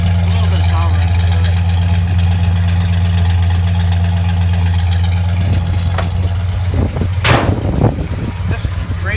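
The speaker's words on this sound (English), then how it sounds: "it still gives you that exhaust note that lets you know there's a little bit of power in it." A 1966 Chevrolet Bel Air with dual exhaust idles steadily up close, its low engine note rumbling continuously before a few louder revs and bumps near the end.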